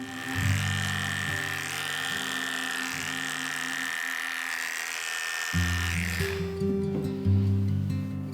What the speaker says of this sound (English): Now I'll do the first layer of shaving and cleansing